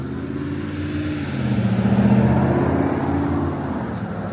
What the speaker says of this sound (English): big ass trucks get priority